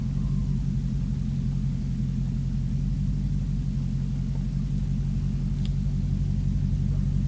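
Dodge Challenger SRT Hellcat engine rumbling steadily while crawling slowly out of a driveway, a loud continuous low drone heard from inside the car with no talking.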